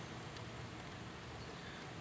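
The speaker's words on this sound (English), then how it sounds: "And now it's raining, and my back is soaked" Steady rain hissing evenly on a Pontiac Aztek being worked on outdoors, a dense wash of soft patter with no pauses, fairly faint.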